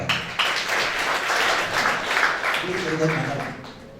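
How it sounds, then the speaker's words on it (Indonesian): Church congregation applauding during an Easter Sunday sermon, a dense wash of clapping that fills the room for a few seconds, with some voices mixed in and a brief tonal voice near the end. "Tepuk tangan."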